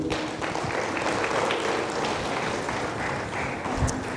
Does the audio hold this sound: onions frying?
no